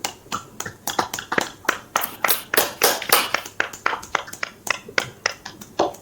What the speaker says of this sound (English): Let's have an applause for.